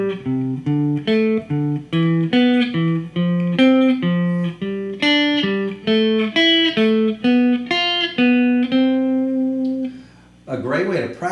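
A guitar plays an interval exercise from C up to the fifth, G, in a steady stepwise run of clear, evenly picked single notes, loud and close, followed by a brief ringing bend at the end.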